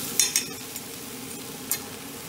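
Green chillies and spices are stir-fried in a pan for egg curry: a steady sizzle under a few scraping strokes of a spoon, close and moderately loud.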